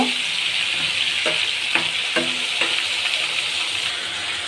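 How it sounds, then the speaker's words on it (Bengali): About two cups of onions fry in a pan while being stirred, a steady loud sizzle close by with several distinct scraping and clacking strokes of the spoon against the pan. "তো এখন আমি এখানে নাড়াচাড়া করে দিব।"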